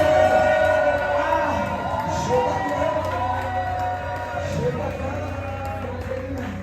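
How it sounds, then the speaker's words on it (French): A church congregation cheers and acclaims during a French-language worship service, a loud, sustained wash of crowd voices and shouts with music or voices running beneath, steady throughout. "Est-ce que tu peux exagérer l'acclamation?"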